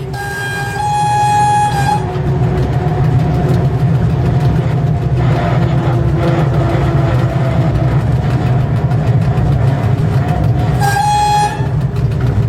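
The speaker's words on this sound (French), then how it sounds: "le rapide Casa-Tanger aborde le pont mixte rail-route de Mechra-Belksiri" A Casa-Tanger express train rolls onto the combined rail-road bridge at Mechra-Belksiri in Morocco, its steady loud rumble running throughout while a horn toots near the start and again near the end.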